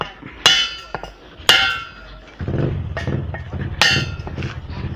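Sharp metal hammer blows drive a sleeve tightly onto the core pipe of a smokeless charcoal kiln, three loud ringing strikes with lighter taps between, followed by a low rumbling scrape.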